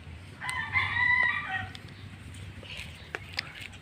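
A rooster crows once at moderate distance in rural Pangasinan, Philippines, a drawn-out call, followed by faint clucks and scattered background noises.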